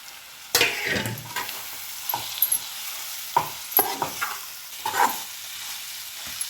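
Bitter gourd is stir-fried into a cooked masala for a curry, with a soft background sizzle punctuated by several sharp spatula clacks and scrapes against the pan at irregular intervals.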